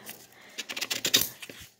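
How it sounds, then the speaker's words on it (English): Household scissors snipping a temporary tattoo out of paper, a quick run of small crisp cuts that grows more rapid toward the end, close and fairly quiet. "And now just snip."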